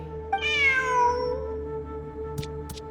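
One drawn-out cat meow from Genshin Impact rises and then trails off over a steady electronic hum, followed by a couple of faint clicks.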